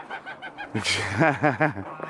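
Several roosters loafing together on a stump give a short run of soft clucks, then a few louder, harmonic calls close by, with faint background sounds in between.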